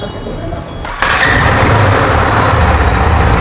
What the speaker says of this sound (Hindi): so now let's listen out to the exhaust note of this motorcycle